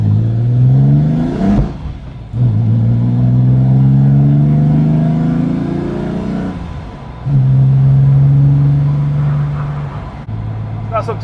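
A BMW E30 Touring with a swapped S38 engine, still being run in, accelerates on an open road; the engine note climbs steadily through two gear pulls with brief gaps at the shifts, loud and close from inside the cabin with wind noise.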